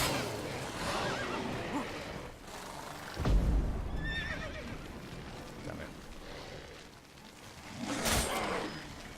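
A horse in the video game Witcher 3 whinnies twice amid clip-clopping hooves and scattered game sounds, with a voice talking over parts of it.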